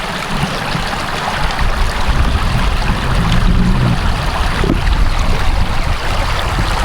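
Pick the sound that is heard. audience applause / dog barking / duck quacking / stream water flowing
stream water flowing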